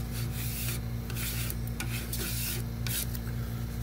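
A scraper bar rubs and smooths strips of blue painter's tape onto a 3D printer bed, a soft close scraping over a steady low hum.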